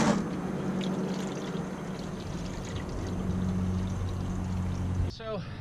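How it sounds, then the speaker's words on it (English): Distilled water pours in a steady stream into a Crown car's radiator for about five seconds, close and fairly loud, then stops abruptly. "I'm only putting distilled water in."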